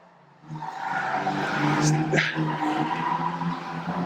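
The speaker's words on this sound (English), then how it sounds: "Brakes definitely working hard today out of turn 1" Stock cars brake hard out of turn 1 during a stock car race, giving a loud sustained roar of engines with a tire screech rising midway, steady and close throughout.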